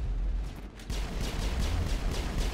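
Loud, sustained blast from a biotic explosion in the Mass Effect 1 video game, a dense rumbling roar with heavy low-end boom that swells after a brief dip and keeps crackling throughout.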